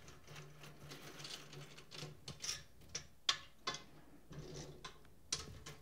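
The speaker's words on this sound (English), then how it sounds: "I'm going to put drum keys on the lugs and spin them" Drum keys spin on the tension lugs of a snare drum, making light, irregular metallic ticks and rattles with a few sharper clicks, fairly quiet, with no talking.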